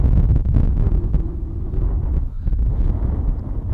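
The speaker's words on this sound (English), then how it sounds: "I hope you guys can understand me because it's really, really windy." Strong gusts batter the microphone in a constant low rumble outdoors in Santorini, heavy and buffeting throughout with no clear voice above it.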